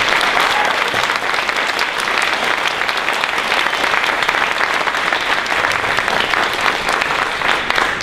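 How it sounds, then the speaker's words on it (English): Loud, sustained applause fills a school board meeting room, a dense crowd clapping steadily and evenly throughout without pause. "So let's give a big round of applause."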